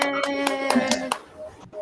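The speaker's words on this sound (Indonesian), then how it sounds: "Tepuk tangan dulu buat kelompok 2." A classroom group claps for group 2, a short burst of hand clapping in a fast run of sharp slaps that fades after about a second. A voice is heard alongside it.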